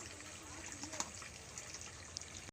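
Boiled soybeans being rinsed in cold water, a quiet steady trickle with faint splashes and one or two small knocks, heard close but soft.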